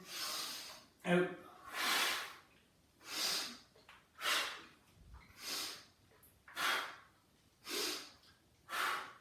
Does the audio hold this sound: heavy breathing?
yes